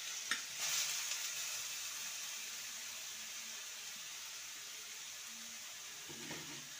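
Grated pointed gourd hitting hot oil with tempered spices in a pan, giving a continuous soft sizzle with a few stirring scrapes and clinks.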